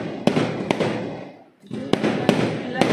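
Diwali firecrackers explode outside, sharp cracks in a quick irregular series over a rumbling wash of more distant bangs that briefly dies down before resuming.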